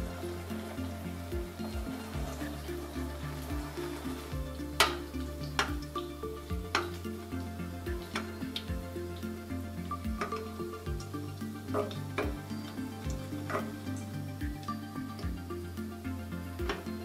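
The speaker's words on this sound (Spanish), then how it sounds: "Calienta el aceite a 180 grados y las fríes" Soft, steady sizzle of cod and potato croquettes frying in oil at 180 degrees, with occasional clinks and taps of utensils over a faint background hum.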